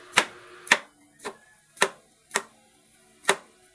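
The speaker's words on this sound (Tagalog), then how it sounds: "Hiwain na natin itong patola." A knife chops through sponge gourd (patola) on a board, six distinct crisp cuts spaced about half a second apart, close and clear with nothing else around them.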